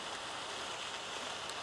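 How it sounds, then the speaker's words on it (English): Rain falls in the video game End of the World as a steady, even hiss of drops, continuous and soft, with no voices. "And it's raining."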